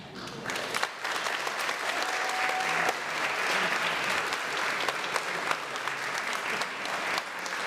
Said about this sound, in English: Let's give our rain-making youth choir a big round of applause.